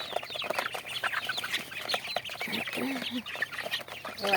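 Farm chickens cluck busily while pecking at feed, a dense chorus of short close clucks and soft calls, with a voice talking faintly underneath.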